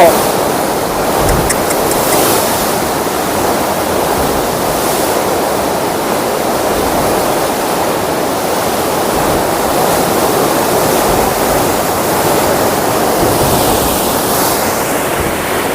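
Water from the Narmada canal rushes out where it passes beneath the Sabarmati river, a constant, powerful roar, a loud unbroken wash of noise close by.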